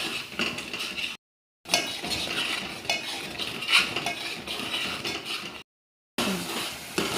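Mutton vada masala stirred and sautéed in oil in a pan, with steady scraping and clinking of a utensil against metal and a soft fry underneath, close and continuous apart from two brief gaps.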